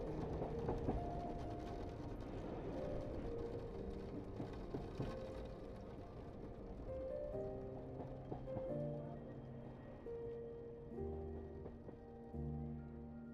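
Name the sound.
sleeper train slowing on railway tracks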